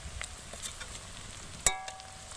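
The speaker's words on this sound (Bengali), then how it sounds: "দিয়ে এক মিনিটের মতন আমি ভেজে নেবো মশলাটা।" Ginger, garlic and green chilli paste frying in a pan with onions, a soft steady sizzle close by, broken by a few quiet stirring taps and one sharper clink.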